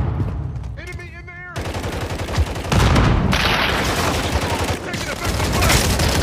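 Automatic gunfire rattles through a Call of Duty Modern Warfare Kill Confirmed match, with loud dense bursts and booms, while a voice shouts a callout over the shooting at the start.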